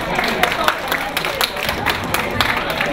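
Audience applause at a party celebration fills the room, a dense, steady patter of many hands clapping throughout, with crowd murmur mixed in.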